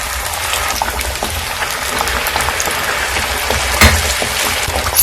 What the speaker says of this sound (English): Let me go in with the second piece. I'll add it in the butter, flip it around again and again.